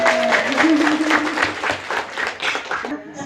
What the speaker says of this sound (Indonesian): Tepuk tangan untuk bank sampah.